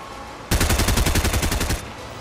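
Rapid gunfire from the video game Fortnite, a loud close burst of about twenty evenly spaced shots lasting over a second, starting abruptly and stopping just as sharply.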